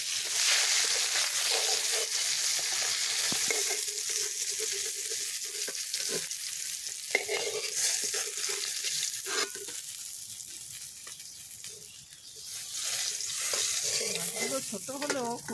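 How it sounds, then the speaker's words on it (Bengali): Small bata fish frying in hot oil in a pan, a steady loud sizzle running throughout with occasional stirring scrapes and spatters, close by and with no talking. "বাকি মাছগুলো আবার আমি ভেজে নিচ্ছি"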